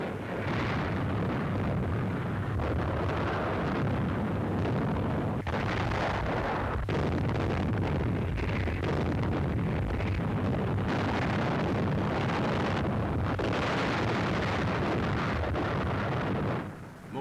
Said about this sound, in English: Long-range guns pound the back areas east of the town.